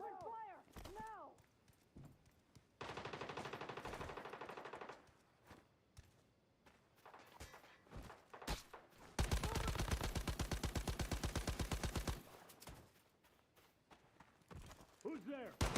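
Rapid automatic gunfire in a combat video game, two long sustained bursts separated by quieter stretches, with single shots and footsteps around them and voices shouting now and then.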